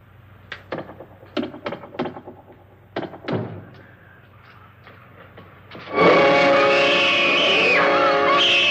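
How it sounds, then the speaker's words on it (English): Tapping on a wall in the 1959 film House on Haunted Hill: a run of close, hollow wooden taps and thuds in irregular groups, followed by a sudden loud, sustained rushing roar that swamps everything. "Tap lower down."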